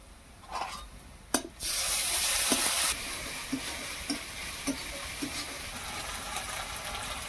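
Ginger garlic paste drops into hot mustard oil with fried onions, bay leaves and green chillies, bursting into a loud hissing sizzle for about a second, then settling into a quieter crackle with soft stirring scrapes.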